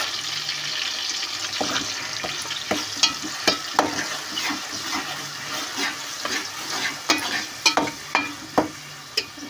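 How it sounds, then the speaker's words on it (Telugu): Tomato and onion paste for a gendi fish curry fries in a pan, a continuous sizzle broken by repeated sharp scraping clicks as it is stirred, fairly close and with no talking. "అది బాగా పచ్చి వాసన పోయేదాకా ఫ్రై చేసుకుందాం"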